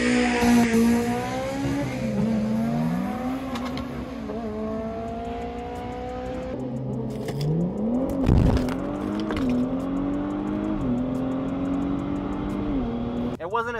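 A 2023 Nissan Z with upgraded turbos revs hard and climbs through several gear shifts on a quarter-mile drag pass, roaring close by with a sharp burst midway.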